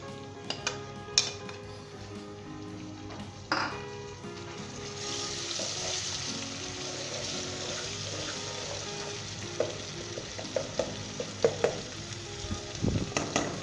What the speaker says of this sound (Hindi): 1 मिनट के लिए हम इसे फ्राई करेंगे अच्छे तरीके के साथ